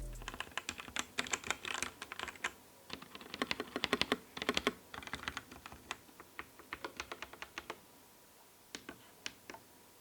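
Quick, crisp key presses clatter in bursts on a gasket-mount mechanical gaming keyboard, close and fairly quiet, with brief pauses between flurries of typing.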